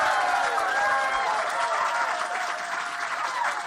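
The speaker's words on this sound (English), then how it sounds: "So please clap, whoop, and cheer." A comedy club audience bursts into sustained applause, a dense wash of clapping with cheers and whoops mixed in, loud and continuous throughout.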